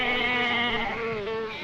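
Sheep bleat in a long, wavering cry, close and fairly loud, with no talking over it.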